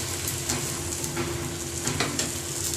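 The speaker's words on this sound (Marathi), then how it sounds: "तिथल्या छिद्रामधून पण थोडं थोडंसं असं तेल टाकायचं" Hot oil sizzles and crackles steadily in a pan around bajra (pearl millet) flour dhapate flatbread poked with holes, a close, continuous frying hiss with no talking.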